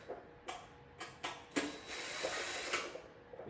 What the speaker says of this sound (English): first we're going to take out all these screws right here